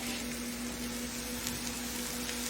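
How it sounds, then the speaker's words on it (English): Steady close-up sizzling and crackling of eggplant frying in hot oil in a skillet, an even hiss with a faint low hum and no voices. "come over here and look in my skillet so you can see how they're frying"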